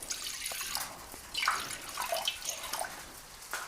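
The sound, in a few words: water being poured into a pot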